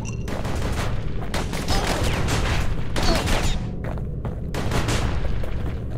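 Rapid bursts of gunfire in the isometric action game Bastion, loud and close, with volleys overlapping in a dense, continuous barrage and only brief lulls between them.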